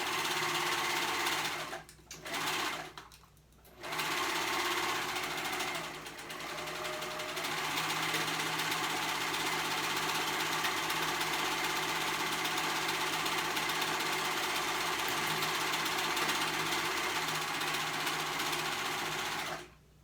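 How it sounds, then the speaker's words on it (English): A sewing machine stitches around the outer edge of a dress collar, starting and stopping in short bursts before running in a long, steady, close whirring hum that cuts off at the end. "we're going to sew around that outside part of the color all the way around."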